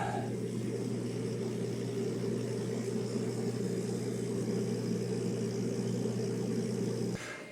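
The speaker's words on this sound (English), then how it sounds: "I'm going to move that laser head so it is back in that upper left-hand corner" Reno 45W Pro laser engraver head traveling back to its upper left corner, a steady mechanical motor hum with a constant low drone that runs evenly throughout and cuts off abruptly near the end.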